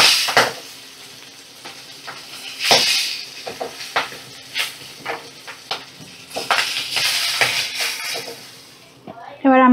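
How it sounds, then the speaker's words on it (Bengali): Fish fry in hot, spattering oil, with bursts of sizzling and popping mixed with clatters of a utensil against the pan, ending in a brief squeak. "দেখো খুব তেল ঠিকরা এই মাছগুলো"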